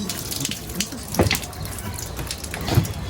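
Water is poured out in a rural farm setting, giving a steady, moderately near trickling and splashing stream with a couple of brighter splashes partway through and no voices.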